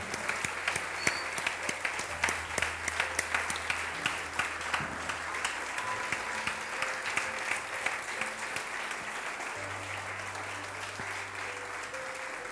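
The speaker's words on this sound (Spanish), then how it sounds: "El aplauso está hermoso." A church congregation applauds steadily for about twelve seconds, dense even clapping held at a moderate distance, with a low sustained hum running under it.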